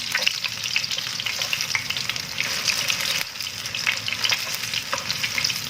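Galantine, a meat roll seasoned with soy sauce and sugar, frying in a pan over a low flame, with a steady close sizzle and crackle while it is stirred and turned, and no voices.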